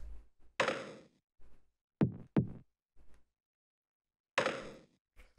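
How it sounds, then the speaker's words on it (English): Dark, techno-style percussion: sparse, dry hits and short noisy bursts with sharp attacks, separated by silent gaps, heard alone. "So I just have these two sort of like dark percussion sounds, very techno sounding, in a group together"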